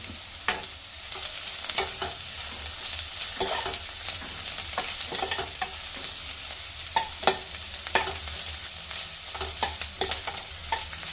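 Egg curry ingredients with turmeric are stirred in a pan, a spoon scraping and clinking in irregular bursts over a faint, steady sizzle, close and fairly quiet.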